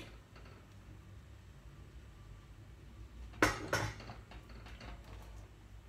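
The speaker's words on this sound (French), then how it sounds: "Et on mélange tout." A spoon mixes powder into water in a container, with two quick clinks close together against a quiet background.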